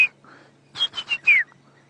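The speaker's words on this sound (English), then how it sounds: "We can hear a woodland, a brown-hooded kingfisher going" A brown-hooded kingfisher calls in African bush at sunrise: a brief whistle, then a quick burst of three or four clipped notes ending in a descending whistled note, fairly close and clear over a faint low hum.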